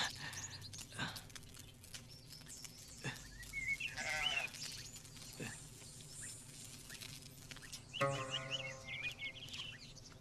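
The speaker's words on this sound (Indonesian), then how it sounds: "seekor domba kecil terbaik" A small lamb bleats several times, wavering cries that rise over a soft background of music and rustling, fairly faint overall with a louder call near the end.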